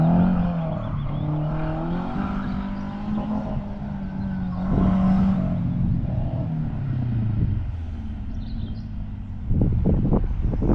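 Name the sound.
cars of a motor rally driving on an airfield runway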